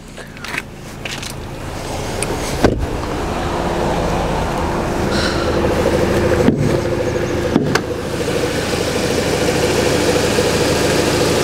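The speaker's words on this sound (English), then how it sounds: "I'm going to get the car started as well for you, so you can have a little listen to the car ticking over." A Porsche Macan idles steadily after starting, a close, even engine hum running throughout with a few sharp clicks and knocks from nearby handling.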